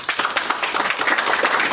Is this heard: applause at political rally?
yes